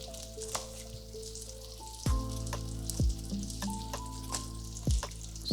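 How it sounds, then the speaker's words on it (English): A knife chops a cucumber on a board while a chicken wrap is being prepared: three dull thumps, spaced about a second apart, over quiet tonal background music. "I'm going to chop and the cucumber like this."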